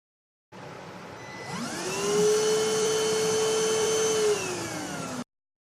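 A 14.8-volt battery-powered portable vacuum cleaner for house and car runs alone, its motor spinning up to a high steady whine with a sharp tonal hum, holding level for several seconds before cutting off abruptly.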